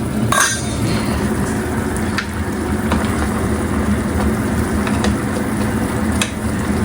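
A pot of adobong pinakbet vegetable stew bubbles and sizzles steadily up close, with occasional light clinks and taps of a utensil against metal.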